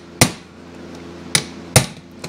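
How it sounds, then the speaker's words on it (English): Screws being knocked loose on a Kawasaki F7 Bushwacker engine held in a stand during disassembly: four sharp, loud metallic strikes, the first three strong and the last fainter, spaced irregularly with no talking. "I'm gonna go ahead and pop these screws."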